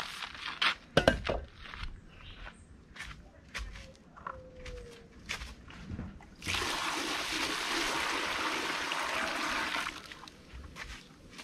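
Water splashes and pours steadily into a gritty sand and cement mix for rough casting, a continuous rushing wash after some scraping and knocking sounds at the start.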